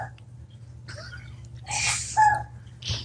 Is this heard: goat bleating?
no